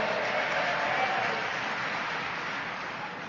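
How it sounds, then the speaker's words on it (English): An AA meeting audience gives dense, steady applause as a continuous wash of clapping that fades slightly toward the end. "Drinking got a round of applause?"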